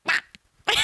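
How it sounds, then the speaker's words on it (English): A small dog throws up in a single abrupt yak, two short harsh bursts separated by a faint gulp, heard close and with no talking. "I don't know if y'all heard a little dog throw up, but it's just one yak."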